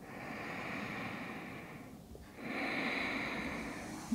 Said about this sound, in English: Last breath, deepest breath yet.